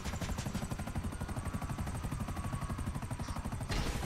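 Helicopter in the GTA V Online video game, a fast rhythmic rotor thump with engine whine, steady and fairly close, heard alone with no talking.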